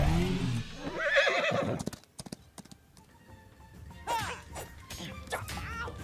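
Horse neighing in the Zorro The Chronicles video game, a loud whinny near the start followed by clopping hooves and further high whinnies, with a voice talking faintly in places.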